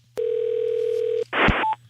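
Telephone line tones on a call to a company phone line: a steady tone held for about a second, then a short burst of noise and a brief higher beep.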